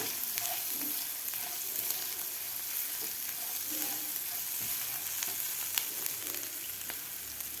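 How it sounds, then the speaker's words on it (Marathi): Grated ginger frying in a pan makes a steady, fairly quiet crackling sizzle, with faint ticks and scrapes of stirring scattered through it. "तुम्हाला आवडत नसेल तर तुम्ही आलं स्किपसुद्धा करू शकता तर आपल्याला हे व्यवस्थित फ्राय करून घ्यायचं आहे"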